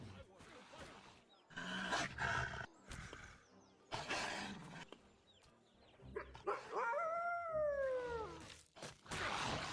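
Aggressive growls and snarling roars from three dogs in a video game burst out in several loud bursts, with a whining, gliding cry partway through amid game noise.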